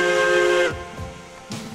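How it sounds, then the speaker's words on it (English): A steam train whistle in Railroads Online blows one loud, sustained hissing blast that cuts off sharply, followed by low rumbling thuds and a brief hiss of steam. "Whistle."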